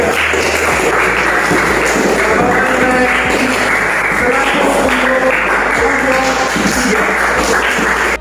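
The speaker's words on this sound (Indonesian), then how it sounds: "kita beri tepuk tangan untuk kelompok 3" Classroom applause for a student group after their presentation in an Islamic religious education practice lesson: steady, dense clapping from many hands filling the room for about eight seconds, with faint voices underneath.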